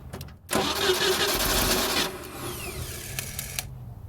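After a click, the idle speed motor on a 1988 MJ 2.5L engine whirs to life and runs with a steady mechanical buzz, settling lower before cutting out with a few faint clicks.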